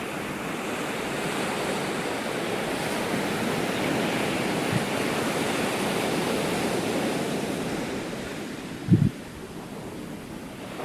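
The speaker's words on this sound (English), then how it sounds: "And listen to the surf roll in." Ocean surf rolls steadily onto a rocky shore beside a channel, a continuous broad wash of breaking waves with wind, holding level for most of the stretch before easing slightly, with a couple of brief thumps near the end.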